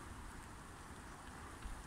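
Steady rain on a Saturday morning in Granada near the Alhambra makes a faint, even hiss that continues throughout without a break.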